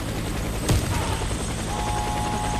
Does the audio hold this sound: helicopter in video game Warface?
yes